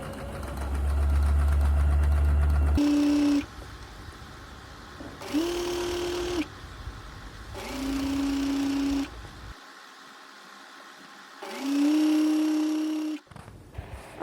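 An electric sewing machine runs in four separate bursts of a few seconds each, stitching a narrow folded hem on the flared part of a top, its motor whirring close and loud between short quiet pauses.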